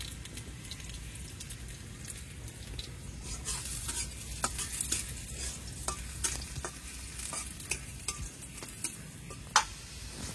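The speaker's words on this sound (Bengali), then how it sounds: "এই যে রসুন ভাজি হয়ে গেছে, এখন লাল শাক দিয়ে দিচ্ছে" Garlic and red amaranth greens fry in a pan, a soft continuous sizzle with scattered crackles and stirring scrapes that grow busier and end in one sharp clack, quiet and close.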